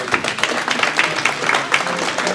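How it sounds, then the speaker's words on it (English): Audience applause at a flood task force meeting, a dense wash of clapping hands filling the short stretch at steady loudness with no voices standing out. "Let's do our experts a round of applause again."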